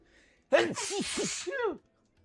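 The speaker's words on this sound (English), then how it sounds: "You ever sneeze multiple times, like in a row?" A single sharp sneeze bursts out, followed by a few short breathy vocal sounds, close and loud against an otherwise quiet background.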